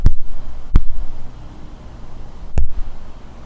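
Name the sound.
stock slap sound effect from a movie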